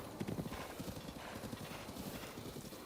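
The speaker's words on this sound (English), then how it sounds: "Oh, scared the horsey." Horse hooves clip-clop steadily at a trot with a brief whinny in a Zelda video game, the rhythmic clopping continuing close and clear throughout over a low game ambience.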